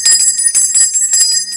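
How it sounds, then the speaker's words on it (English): A bright notification-style bell rings repeatedly in quick succession, loud and close, with sustained shimmering high tones and no voices. "Ring your the bell for notifications."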